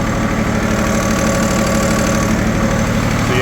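A sawmill engine fitted with a carbide blade, while cutting a black walnut log that holds embedded metal, runs loud and steady at close range with a constant throbbing drone and no talk.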